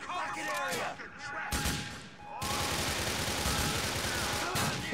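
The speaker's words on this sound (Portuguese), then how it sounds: "Meti um tiro na nuca do menino." Gunfire in the game GTA: The Lost and Damned crackles in dense, rapid bursts almost continuously, with a brief lull in the middle before the shooting resumes loud and close.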